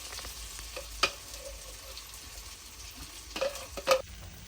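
Onion and cashew paste with cumin frying in oil for a paneer kofta gravy, a soft steady sizzle with a few sharp clinks of a spoon stirring against the pan, close and fairly quiet, no talk.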